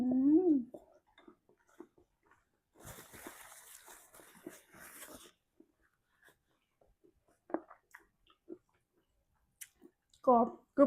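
Wet, crunchy chewing of squid close to the mic, a burst of crisp crackling with short quiet pauses around it, and a voice speaking before and after.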